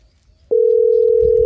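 A telephone dial tone, heard while a call is being placed, switches on after a brief quiet moment and then holds as one loud, steady, unbroken tone until the end.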